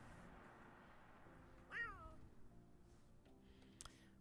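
A short meow from a cat in The Sims 4, faint and brief, set in quiet game background sound. A small click follows near the end.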